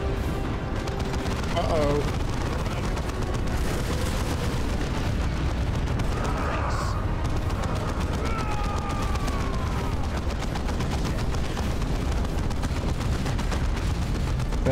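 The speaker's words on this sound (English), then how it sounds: "Just keep bombarding that." Distant artillery bombardment in Dawn of War 2, a dense, low rumble of shelling and blasts running continuously under a speaking voice.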